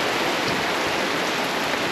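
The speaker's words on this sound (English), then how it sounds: "another rainy day" Heavy rain pouring down at a campsite in Port Macquarie, a dense, constant hiss of water falling on surfaces, close and loud with no talking.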